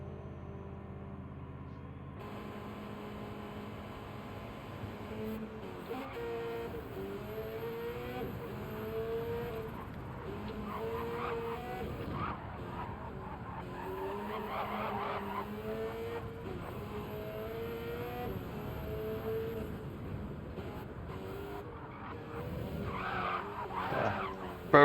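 A Subaru car with custom livery drifting, tires squealing in long wavering screeches over engine noise. It is sustained and moderately close, rising near the end, with no talk.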